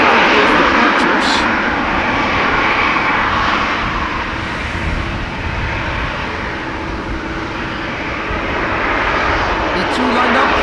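A departing airliner roars loudly and steadily at Amsterdam Schiphol Airport on a windy day, a broad engine rumble that swells and eases slightly over the span.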